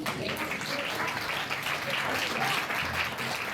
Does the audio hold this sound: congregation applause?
yes